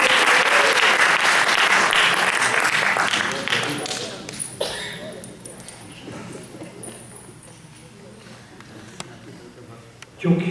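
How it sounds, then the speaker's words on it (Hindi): An audience at a Holi poetry gathering applauds loudly and steadily for a few seconds to welcome a poet, then the clapping fades into quieter room noise with scattered voices. "जोरदार तालियों से स्वागत करिए फतेह अली जी चतुर।"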